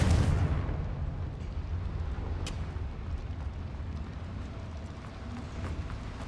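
A Confringo spell blast from the video game Hogwarts Legacy, with a loud booming explosion at the start that rumbles and decays into a long low roll, plus a few faint pops afterward.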